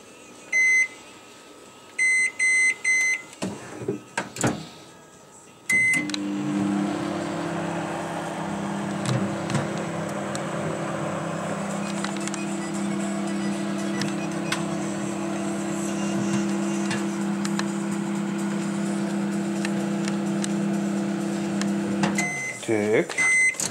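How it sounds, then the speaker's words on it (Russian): A microwave oven heating a shawarma for three minutes hums steadily for a long stretch after a few beeps and a door clunk, ending with more beeps. "Теперь ставим ее в микроволновку на 3 минуты."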